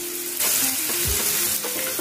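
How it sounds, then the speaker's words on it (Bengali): Chopped onion sizzles in hot oil with a bay leaf and a pinch of salt, the base for a pabda fish and pineapple curry. A loud, steady frying hiss runs under brief spatula scrapes, with no talking. "পেঁয়াজটা হালকা ভেজে নেব।"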